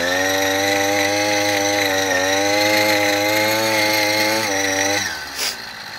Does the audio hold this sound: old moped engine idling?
yes